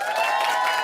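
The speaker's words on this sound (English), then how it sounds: "give me a healthy round of applause" An audience at a Jamaican productivity forum breaks into a short, steady wash of applause and crowd noise, dense and even throughout with no voices standing out.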